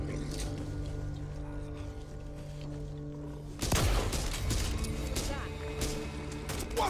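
Gunfire in the zombie shooter Back 4 Blood breaks out suddenly as a dense, rapid burst of shots over a droning, humming backdrop, loud and close, with growling creature noises mixed in.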